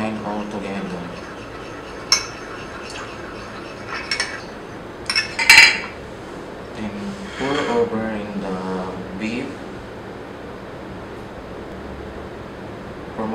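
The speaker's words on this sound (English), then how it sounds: "then the Dijon mustard, then mix and combine all together" Ingredients with Dijon mustard being mixed in a bowl for a beef marinade, with scattered clinks and scrapes of utensil against the bowl under steady speech.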